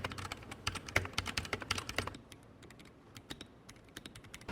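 Rapid typing on a Cooler Master MK770 mechanical keyboard with pre-lubricated switches and stabilizers, a dense run of soft clicks that thins into sparser keystrokes after a couple of seconds, quiet and close.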